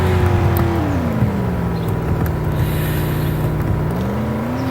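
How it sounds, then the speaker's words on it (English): A Chevrolet Corvette C6 or Subaru WRX STI S209 engine revs at the launch of a race in a driving video game, a loud sustained roar whose pitch dips and then climbs again, heard alone. "Alright, revving it up."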